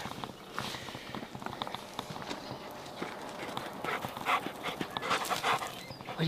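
A dog pants close by in a barn loft in the morning, its breathing joined by scrabbling paws and clattering steps on the boards, with a few soft sounds of movement.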